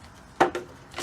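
Two or three sharp, close cuts slice around a recycled plastic plant pot, short crisp snips with brief gaps between them and no voice.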